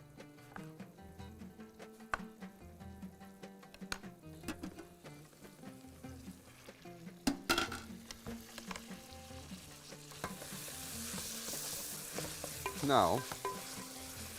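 Eggplant frying in a pan for margog, with steady sizzling and repeated stirring clatter throughout, growing louder and hissier toward the end, and a brief spoken word near the start.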